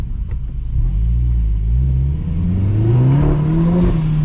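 A 300 hp VW GTI engine revs up inside a tunnel with a rising, booming drone, its pitch climbing steadily, sounding enclosed and reverberant.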